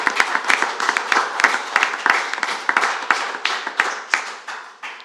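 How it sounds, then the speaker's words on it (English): A round of applause at the Lancashire Cricket Club 2020 AGM: brisk, fairly close clapping from a modest group, individual claps standing out sharply, lasting several seconds. "Let's have a round of applause for that."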